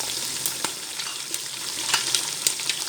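Prawns for a pulao sizzle steadily in hot oil with curry leaves and tomato slices, a close, bright frying crackle with occasional stirring taps and no voice.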